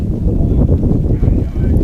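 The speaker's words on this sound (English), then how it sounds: "Windy and rainy here from Lawrence." Steady wind roar with rain noise at a high school baseball game in Lawrence, loud and continuous broadband rumble buffeting the microphone throughout, no speech.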